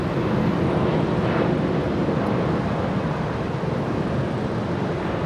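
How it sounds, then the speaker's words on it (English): American Airlines Boeing 777 departing on runway 25 right at LAX: a steady, broad rumbling jet engine roar held at even loudness for several seconds, heard from a distance with wind noise, no talking. "We are going to have this 777 leave via 25 right"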